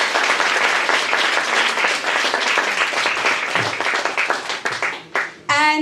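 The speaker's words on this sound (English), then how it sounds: "Let's give her a big round of applause," Enthusiastic audience applause at a book launch, a loud, dense, sustained round of clapping that fades near the end just as a voice begins speaking.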